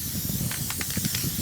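Spray adhesive hisses from an aerosol can indoors in a few quick bursts of soft, airy spray over a faint background.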